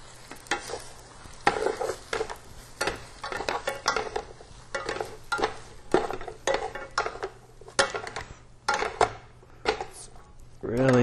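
Pasta being tossed with carbonara sauce in a pan, giving repeated close scraping and stirring clatter with light sizzle, under intermittent talk.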